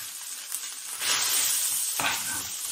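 Food sizzles and hisses in a frying pan while being stirred, a steady close crackle that swells in bursts around the one- and two-second marks, with no voices.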